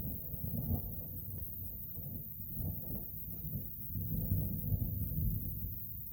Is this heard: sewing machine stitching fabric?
no